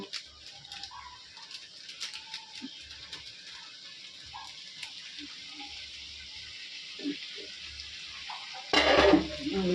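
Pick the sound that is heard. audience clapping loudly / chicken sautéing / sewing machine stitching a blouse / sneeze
chicken sautéing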